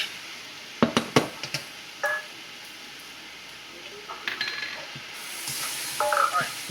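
Vegetables and soy sauce go into a sizzling chicken stir-fry, with sharp clatters, stirring, and then a rising hiss of frying, while people talk nearby.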